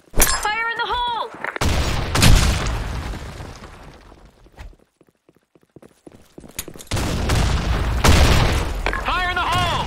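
Grenade blasts and gunfire in the Blackshot online shooter: heavy booming bursts and rattling shots, loud and close, with a quieter lull in the middle and chirping game sounds at the start and end.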